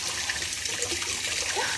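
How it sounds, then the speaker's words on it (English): A toy water fountain splashing into a sink, with close, continuous running and spattering water at a steady level and no voices. "Water is all over the sink now."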